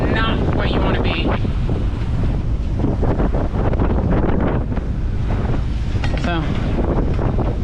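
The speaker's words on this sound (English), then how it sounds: "the wind is coming from that direction" Strong wind roars steadily across the microphone on a sailboat at sea during a stormy solo sail, a loud, constant rush with splashing water beneath it, and someone speaks briefly over it.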